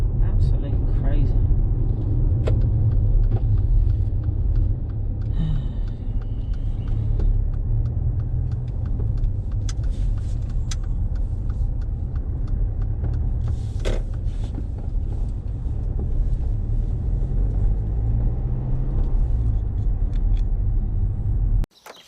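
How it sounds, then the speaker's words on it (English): A car drives through heavy road traffic with a steady engine and road rumble the whole way, and a person talks occasionally over the noise. "This traffic is just crazy."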